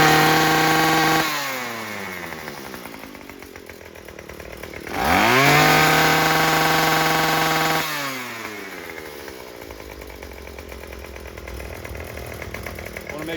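Craftsman string trimmer engine running loud and close, revving high, dropping back to a steady idle, surging again and settling into idle once more.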